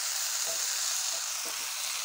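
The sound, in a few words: potatoes frying in a pan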